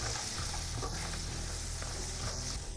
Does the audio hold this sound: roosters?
no